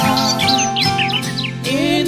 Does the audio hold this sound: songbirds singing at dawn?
yes